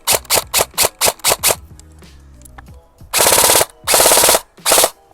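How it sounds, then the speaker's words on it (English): Specna Arms Edge airsoft gun loaded with PTS EPM magazines fires close and loud: a string of quick single shots, then three longer full-auto bursts with short gaps between them, no talking. "EPM mags will fit in the Specna Arms, and we will see will they fire"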